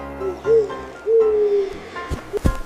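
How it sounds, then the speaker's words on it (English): An owl hoots in two drawn-out, wavering calls, loud and close, followed by a couple of short knocking thumps near the end. "Owl."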